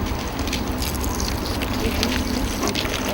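Water poured steadily onto a tilted tray of soil during a classroom erosion demonstration, a continuous close trickle and splash lasting throughout with a faint murmur of voices beneath.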